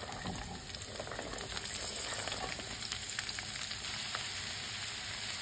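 Chopped vegetables frying in a tempering of cumin seeds, green chili and garlic, producing an even, close hiss of oil with light crackles and occasional stirring sounds.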